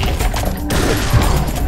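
Rapid machine gun fire in the shooter game Serious Sam 3: BFE, a dense, loud, continuous stream of shots and impacts with no gaps for nearly two seconds.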